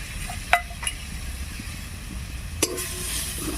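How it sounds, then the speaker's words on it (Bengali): Garlic frying with onion in a pan, a low continuous sizzle with a few sharp clinks of a spoon against the pan. "রসুনটা দিয়ে লাল করে ভেজে নিয়ে তারপরে আদাটা দিয়ে দিচ্ছি।"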